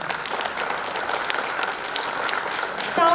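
A theatre audience at a Hindi stage play gives a sustained burst of dense, even applause for the stage crew, loud and continuous, with a brief tone entering at the end.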